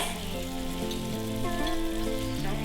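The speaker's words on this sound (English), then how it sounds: "listen to the sizzle. Can you hear the peaches caramelizing?" Steady sizzling and crackling of peaches caramelizing in a hot pan, close and continuous, with no talking.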